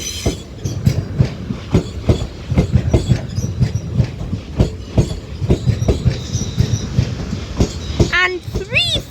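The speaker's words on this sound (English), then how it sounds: "a double London Northwestern Railway Class 350, which is forming the 10:41 London Northwestern Railway service from Tring or Northampton" A double London Northwestern Railway Class 350 electric unit moves through Euston station, its wheels giving a steady clickety-clack of regular rail-joint beats, close and loud, with a brief high wheel squeal near the end.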